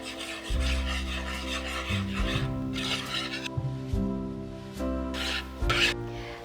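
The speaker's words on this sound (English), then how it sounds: "finally, we're going to whisk everything together" Dry flour, cornstarch, baking powder and spice mixture whisked together in a bowl for crispy fried chicken coating, a close, steady scraping rasp with soft rhythmic strokes over a low hum.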